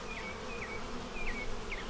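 Honeybees buzz near capped queen cells in a hive, a dense continuous hum with repeated higher whining passes of individual bees close by, no voices.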